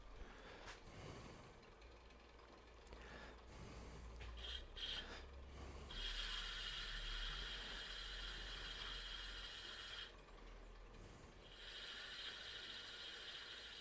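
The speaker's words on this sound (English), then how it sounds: "Oh, let me sand that real quick," Sandpaper pressed against a turned wooden corzetti pasta cutter spinning on a lathe, a continuous rasping hiss over the motor's low hum, swelling and easing as the paper moves on and off the wood.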